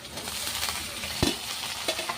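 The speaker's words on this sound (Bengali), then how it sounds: "মাছগুলো ভেজে দিচ্ছি" Soft, steady sizzling of fish frying in a pan, with a few light scrapes and clinks of stirring, no voices.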